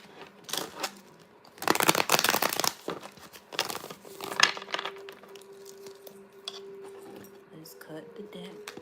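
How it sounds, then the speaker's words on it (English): A deck of tarot cards is shuffled close up in crisp papery riffling bursts, the loudest flurry coming in the first few seconds, with quieter card handling and a steady low hum afterward. "One more shuffle."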